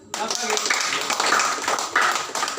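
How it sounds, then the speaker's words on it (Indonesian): A group at a morning meeting of a drug rehabilitation centre in Nias claps hands together, a busy burst of overlapping claps starting abruptly and continuing with voices mixed in. "Ya, tepuk tangan semuanya."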